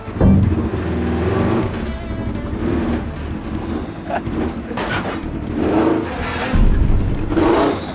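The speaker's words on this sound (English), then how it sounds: "This is a cute little buggy I've been allowed to drive." A small buggy's engine runs and revs at a Monster Jam site, a loud, continuous motor drone that rises and falls as the vehicle is driven, with no speech.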